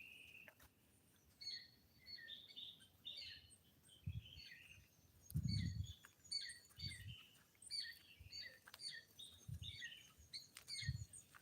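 Birds chirp and tweet in a royal palm tree with berries, bright calls repeating in quick clusters throughout, mid-distance. Soft low thuds recur underneath.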